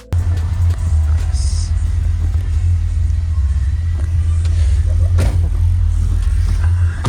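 Heavy, sustained bass from a car audio subwoofer rumbling loudly and steadily throughout, with a booming low-end throb and some rattling.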